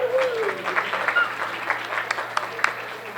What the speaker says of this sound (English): Can I give a round of applause for that?